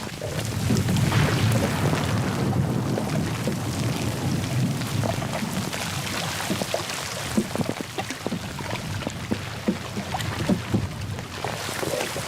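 Heavy rain in the Borneo jungle on a canoe trip across a reef, a dense steady roar of downpour with scattered louder drops and splashes nearby.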